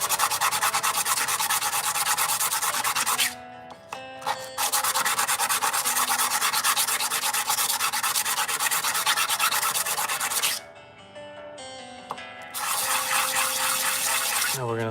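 A copper rustic ring is sanded with finer-grit paper, giving a loud, continuous abrasive rubbing that breaks off briefly twice before resuming.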